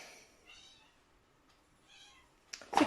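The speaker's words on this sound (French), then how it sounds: "c'est quoi ce bruit de chaton qui miaule?" A kitten meowing indoors: a few soft, thin, drawn-out mews spaced apart at moderate distance, followed by a sudden louder clatter at the end.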